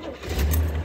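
A 1974 Chevy Corvette convertible with a 350 V8, four-speed and an aftermarket cam rumbles briefly in a deep low burble, close and moderately loud, with a light metallic jingle on top.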